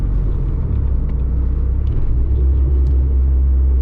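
A Dodge SRT4 car with a newly installed Werks Stage 3R transmission, its engine rumbling steadily and close as it is downshifted through the gears, continuous and loud without talk.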